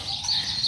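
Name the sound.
chicken clucking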